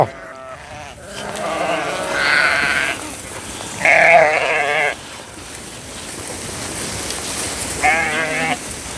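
Ewes and lambs on a farm in the Perche Vendômois bleat at feeding time: several separate loud, wavering calls spread through a steady wet, pattering background, with no speech.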